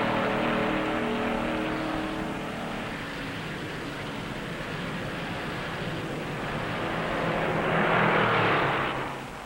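Stock car engines from 1958 NASCAR Grand National racing at the Southern 500 on a high-banked track drone loudly and steadily, swelling as a car passes near the end; old broadcast-style recording with no speech.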